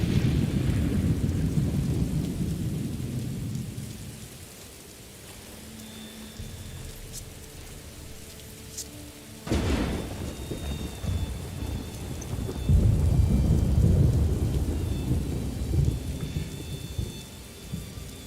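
Rain and rolling thunder in the video game Morrowind, a steady hiss of rainfall with a sharp thunder crack midway followed by a loud low rumble, no voices.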